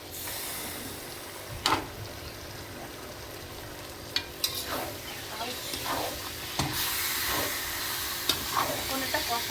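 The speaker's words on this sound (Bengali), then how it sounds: "এখন শুধু কষানো হবে" Chicken with tomato sizzles and is stirred in a pan for a charcoal-style chicken curry, with a steady fry hiss broken by sharp scrapes and clinks of the spoon, close up and without speech.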